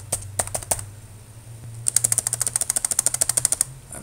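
Computer keyboard keys tapped while entering a password, a few scattered clicks followed by a quick, steady run of about twenty crisp close keystrokes.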